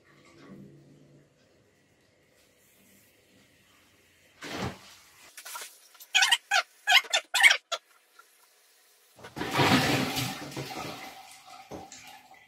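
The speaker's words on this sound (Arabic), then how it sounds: "تسمعون خرير الماء" Water gurgling through an air conditioner's drain line during cleaning: a cluster of short, close gurgling bursts, then a longer rushing splash of water.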